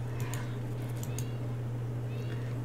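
A cat meows a few times, fairly faint, over a steady low electrical hum, with a faint voice in the background.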